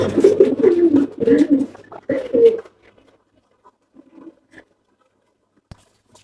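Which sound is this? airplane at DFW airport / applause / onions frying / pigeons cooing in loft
pigeons cooing in loft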